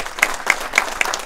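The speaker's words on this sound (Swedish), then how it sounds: "det är väl värt att bara en applåd där" Applause from an audience at a Leksands Sparbank event welcoming hockey player Nicklas Lidström: a brief burst of many hands clapping, fairly loud and close, with a few sharper individual claps standing out.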